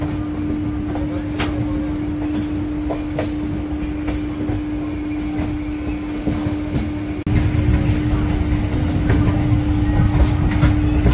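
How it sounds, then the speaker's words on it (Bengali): From the doorway of the 18628 Ranchi–Howrah Intercity Express crossing a 700 m bridge over the Ganges comes a loud, steady rumbling roar with wind and faint rhythmic clicks, growing heavier partway through. "শক্ত হাতে ট্রেনের হ্যান্ডেল ধরে গঙ্গার ঠান্ডা বাতাস গায়ে লাগিয়ে পার করে ফেললাম দীর্ঘ 700 মিটারের এই ব্রিজ"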